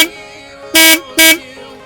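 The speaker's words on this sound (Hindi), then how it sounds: "now the additional horn," Accessory horn fitted to a Honda CB300F motorcycle gives two loud, short blasts about half a second apart, each a steady bright tone, with a quiet engine idle underneath.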